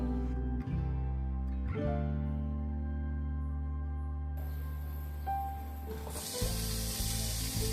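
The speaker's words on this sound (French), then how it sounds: "Puis je fais revenir l'ail, les oignons et les tomates." Garlic, onions and tomatoes hit hot oil in a frying pan, a bright sizzle bursting in near the end over a low humming, tonal background.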